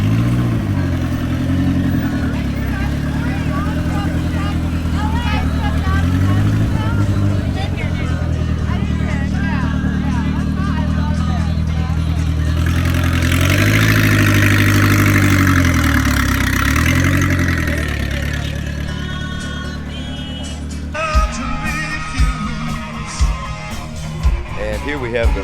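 A truck arriving at a Ford car show, its engine idling with a loud, deep, steady rumble that rises briefly before settling, while people talk nearby.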